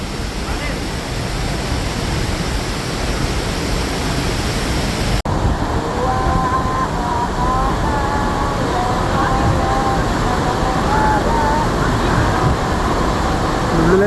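Devkund Waterfall near Bhira village in Maharashtra pours in a loud, unbroken roar of crashing water, close by and steady throughout, with faint voices beneath the rush in the latter half.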